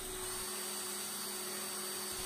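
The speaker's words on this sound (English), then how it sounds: "I've got a series of holes to drill in various locations" Power drill boring holes in wood while a wooden squirrel feeder is built, giving a steady high whine that runs without a break throughout, close and alone with no talk.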